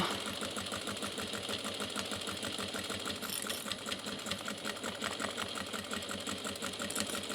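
Sewing machine stitching the side seam of a large tote bag with a firm backstitch, a steady fast mechanical whirr and rapid needle clatter running continuously at close range, no talking.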